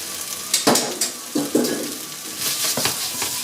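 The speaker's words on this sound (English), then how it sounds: "Add a little bit more oil, and we're going to add our potatoes." Potatoes hitting hot oil in a pan, a sizzle with bursts of scraping and stirring, the spoon knocking against the pan now and then, close and fairly loud.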